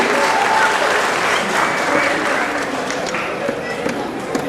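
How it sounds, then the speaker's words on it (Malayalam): An audience at an award ceremony claps in sustained, dense applause, loud and even, with a voice faintly audible beneath it. "എല്ലാവരും കയ്യടി നൽകി ഇവരെ അനുഗ്രഹിക്കേണ്ടതാണ്."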